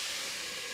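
Steady broadband hiss of vegetables sweating and sizzling in a partially covered pan, a continuous close sizzle with no talk.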